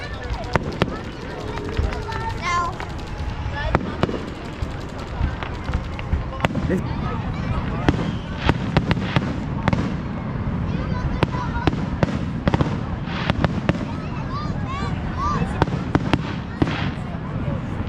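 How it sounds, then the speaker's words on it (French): Fireworks at Niagara Falls crackle and pop in rapid bursts, with sharp bangs scattered throughout over crowd chatter and people talking nearby. "Donc les feux d'artifice sont finis."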